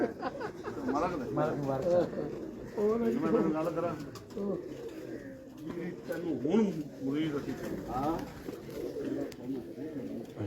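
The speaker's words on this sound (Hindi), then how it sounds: "ज़बरदस्त कबूतर हैं" A loft of racing pigeons from Pakpattan and Sahiwal fanciers coos in repeated rolling bursts, near and moderately loud, mixed with people speaking over the birds.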